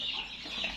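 A flock of farm-raised chickens clucks and chatters in a continuous overlapping murmur, steady and fairly close, with no single call standing out.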